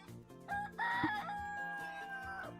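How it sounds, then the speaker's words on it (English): A rooster crows once in the farming game Dinkum, a clear drawn-out cock-a-doodle-doo at moderate volume over quiet game background. "And there's the rooster."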